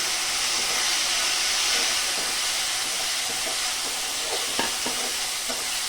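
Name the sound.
tomatoes frying in hot oil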